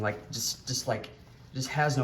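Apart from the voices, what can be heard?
No everyday noises stand out.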